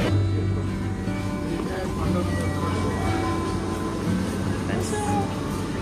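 Inside a Dhaka metro train, a steady rumbling hum of the moving carriage fills the space, with a continuous drone and faint mechanical tones and no clear speech.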